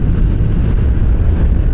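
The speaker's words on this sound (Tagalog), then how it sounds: "Ang lakas ng hangin. Pinipigil tayo ng hangin." Strong wind buffets the microphone during a motorcycle ride, making a loud, steady low roar throughout with no speech.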